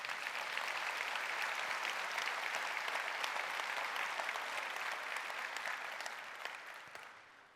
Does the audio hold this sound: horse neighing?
no